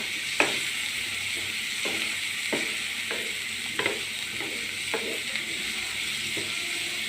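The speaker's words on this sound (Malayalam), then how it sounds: "ഞാൻ എല്ലാം കൂടി മിക്സ് ചെയ്യണം." Ginger garlic paste frying in a pan, hissing steadily under a spoon that scrapes and taps the pan every second or so, close and moderately quiet, with no talking.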